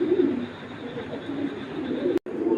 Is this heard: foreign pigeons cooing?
yes